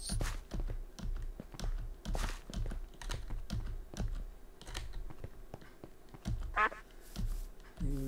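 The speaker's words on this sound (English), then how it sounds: "Got some cute little duckies over there." Ducks quack a few times in Minecraft, mostly masked by rapid, steady keyboard typing and clicking close by.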